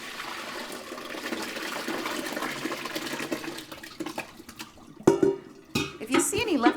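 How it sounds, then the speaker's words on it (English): Cottage cheese curds and whey are poured from a pot into a strainer in a kitchen sink, a steady splashing gush followed by clanks of the pot, with a person talking over it. "we're going to drain them in the sink"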